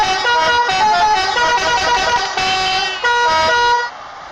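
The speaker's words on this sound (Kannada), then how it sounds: "ಹಾರ್ನ ಫುಲ್ ಇದಾಗ್ತೈತೆ ಸ್ನೇಹಿತರೆ" A vehicle horn in an ambulance mod video game sounds in repeated loud, tonal blasts with shifting pitches, followed by a brief quieter tail. No voices.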